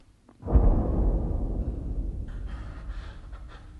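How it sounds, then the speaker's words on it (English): A deep, muffled boom rolls out and slowly fades, followed by softer rumbling, like a far-off explosion. "What's them explosions? Explosions? Yeah, blow-ups. Hear 'em a long way off me."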